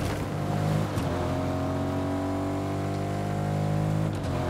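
A car in the Fortnite video game drives along with a steady engine drone that stays loud and even throughout, with no talk over it.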